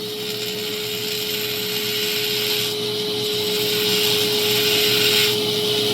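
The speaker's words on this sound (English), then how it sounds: "I have a few different vacuums in place and I'm running underwater" Several vacuums run during underwater stone carving of a Deer Creek stone, a loud steady whine and rushing drone with a constant tone, swelling slightly over the few seconds.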